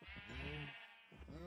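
A sheep bleats in the game Minecraft, two wavering calls heard close and alone.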